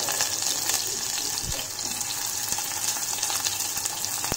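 Sliced onions fry in hot oil in a pan for a sweet potato stew, a loud, steady close-up sizzle and hiss with a couple of brief clatters from stirring.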